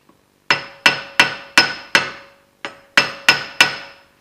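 Hammer blows on a worn Mini Cooper wheel bearing, eight crisp ringing metallic hits in a fairly even rhythm with a short gap before the last three, close and loud with no talking.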